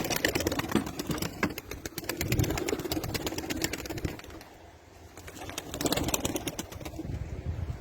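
Released pigeons flutter and beat their wings close by, bursts of flapping rising and fading against a steady outdoor background.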